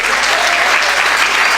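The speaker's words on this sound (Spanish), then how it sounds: "¿nos damos un fuerte aplauso por esto?" Strong, dense applause from a community gathering's audience, a brief burst of many hands clapping at once, loud and continuous without a break.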